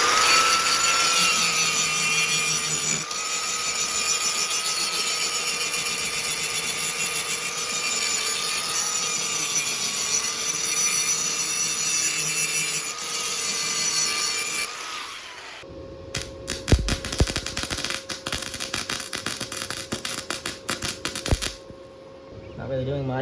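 A power grinder works over thin welded pipe after flux-core welding, a loud sustained whine close by that cuts out midway, then gives way to clattering, scraping handling noises.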